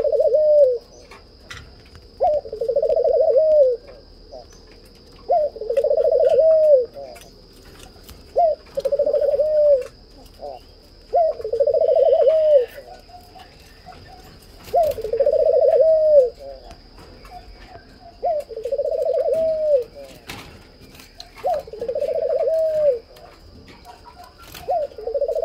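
Spotted doves cooing in a steady repeating series of about nine two-part coos spaced a few seconds apart, close and clear, with a faint constant high whine behind.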